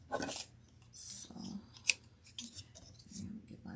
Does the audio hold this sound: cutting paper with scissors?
yes